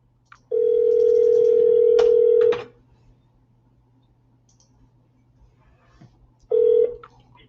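A telephone call rings through a handset: a long steady ringback tone lasting about two seconds, a pause of silence, then a second ring tone starting, clear and close.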